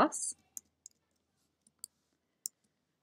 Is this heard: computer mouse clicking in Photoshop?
yes